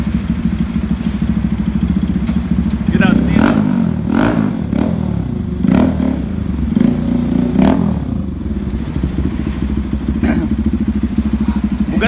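Big motorcycle at a car wash, its engine running with a steady low rumble and throbbing idle, a few revs and clattering knocks on top, close and loud throughout, with people talking faintly over it.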